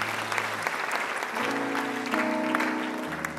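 A church congregation clapping steadily during a sermon service, dense applause of moderate loudness, with sustained organ or keyboard tones underneath.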